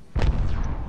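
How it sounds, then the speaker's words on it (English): A grenade explodes in the video game Apex Legends, a single sharp, booming blast with a brief crackling tail, moderately loud and heard alone. "And I threw a grenade."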